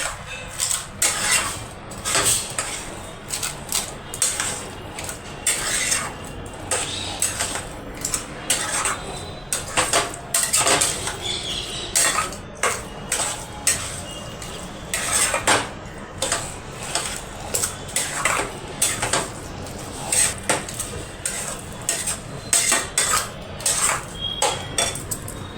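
A spoon scraping and clinking against a pan as a kheer mixture for pithe-puli is stirred, with rapid, uneven metallic strokes continuing for the whole stretch, close and fairly loud.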